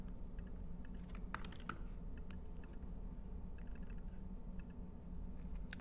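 Typing on a computer keyboard, a steady run of quiet, close clicks and taps over a low background hum, with no talking.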